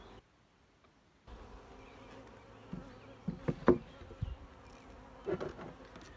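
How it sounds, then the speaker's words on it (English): Honey bees buzz in an open hive that currently has no queen, a steady low drone with a few louder close passes of individual bees near the microphone; no talking. "So there's lots of bees in here, but currently no queen"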